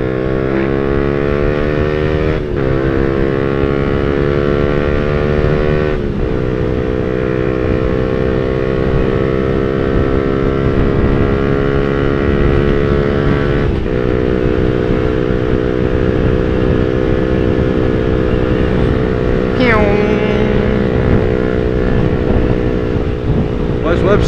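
A motorcycle engine runs steadily and loud throughout a ride toward Rivington, its harmonic drone stepping through several gear changes with brief dips and rises, with wind noise mixed in.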